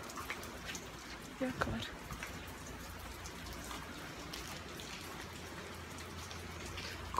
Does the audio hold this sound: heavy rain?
yes